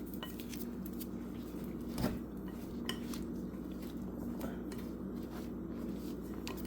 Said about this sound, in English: use my pastry butter cutter to cut the butter down until it's like pea size